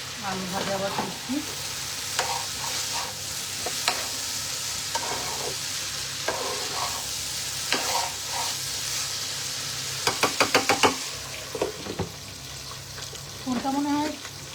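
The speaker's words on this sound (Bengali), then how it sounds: "আলু ভাজা আবার দিচ্ছি" Potatoes fry in a pan with a steady sizzle, interrupted by bursts of stirring and spatula scrapes against the metal, some louder rattles near the end, and someone talking intermittently.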